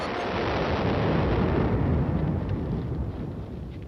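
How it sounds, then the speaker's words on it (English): A far-off explosion rolls out as a long, deep rumble in a Twilight Zone war episode, swelling quickly and then fading slowly over several seconds, with no voices. "Their moment of peace is disrupted by an explosion far into the distance."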